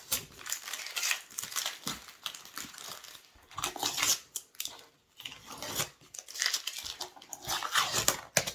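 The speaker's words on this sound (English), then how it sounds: "So just get the bulk of the tape off." Adhesive tape ripping off a wooden lazy susan in several bursts of crackly, tearing noise, with short pauses between pulls, close and fairly quiet, with no talking.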